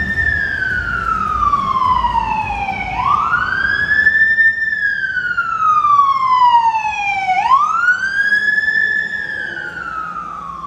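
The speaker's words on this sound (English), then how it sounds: "those were some loud-ass sirens" A police car siren wails loudly and close on a hot afternoon street on Toronto's west side, sweeping down and back up in two long cycles with traffic noise beneath.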